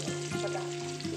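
Chicken pieces fry in a pan with only a little oil, a soft, even sizzle over a steady low hum, brief and close without voices.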